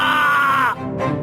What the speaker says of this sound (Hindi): उनके पेट से तभी जोरों की चीखने की आवाज आई।